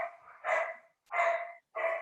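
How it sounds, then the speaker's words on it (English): Dogs bark three times in a row, each bark a sharp, fairly close burst with short gaps between, and no talk over them. "My dogs are going crazy"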